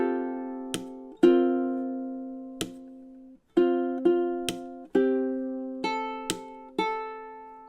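A ukulele plays two measures of a song, with single plucked notes and chords ringing and decaying, separated by sharp percussive taps in a steady tutorial pace, close and alone.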